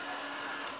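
Hand dryer blower in a guest bathroom, a steady broadband whoosh of blowing air running continuously and close, with no voices over it.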